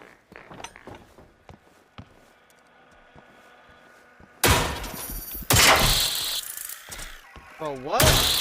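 Gunfire from the video game Generation Zero: a few loud, sharp blasts burst out in the second half, each ringing briefly, after a quieter stretch of scattered clicks and game noises.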